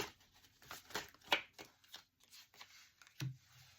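Tarot cards are shuffled and dealt out one at a time, giving a run of soft, papery riffles and flicks with brief gaps, ending in a slightly firmer slap as a card lands.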